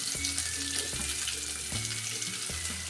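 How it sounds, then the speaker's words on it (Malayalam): Onions with green chillies frying in hot oil for an egg curry, a steady broadband sizzle running throughout with a few soft clunks of a spoon or pan recurring roughly every second, close up and alone. "ഓയിൽ ചൂടായതിന് ശേഷം നമുക്ക് ഉള്ളി ഇട്ട് കൊടുക്കാം"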